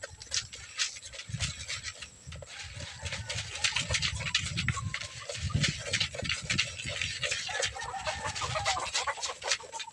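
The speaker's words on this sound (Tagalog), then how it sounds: "ganado ba yung mga manok natin dito sa pagkain nila" Chickens feed, with soft clucks and pecking against a constant scratchy bustle of the flock, fairly faint and steady throughout.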